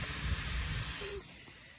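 A steady high-pitched air hiss, like a tire deflating, runs throughout and fades slightly toward the end, close and continuous.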